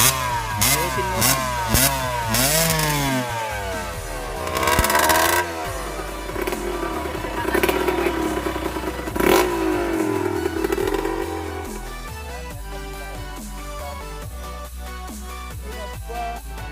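A misfiring motorcycle engine is revved repeatedly in short, uneven bursts, rising and falling with sputtering stumbles between throttle blips, close by with no talk over it.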